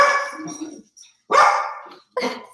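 Dogs bark loudly and close by in a few sharp bursts, with brief pauses between them.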